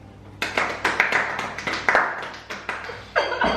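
A few people clap their hands at close range, a quick uneven run of about a dozen sharp claps over a few seconds with no talking.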